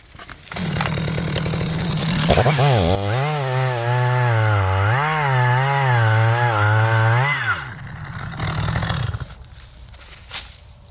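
A chainsaw revs loud and close as it cuts about 70 to 80 percent through a loaded tree trunk during felling. The engine holds a steady, wavering whine for several seconds before dropping back to idle.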